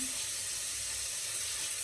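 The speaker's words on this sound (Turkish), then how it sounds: "Soğanlarımı böyle kavuracağım. Zeytinyağında." Onions frying in olive oil in a pan give a steady, close sizzle and hiss that carries on evenly with no talk.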